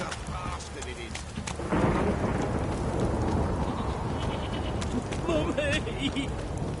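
A heavy downpour roars with rumbling thunder in a video game, a loud, continuous rain hiss swelling after the opening seconds, with voices talking over it and a bleating animal briefly.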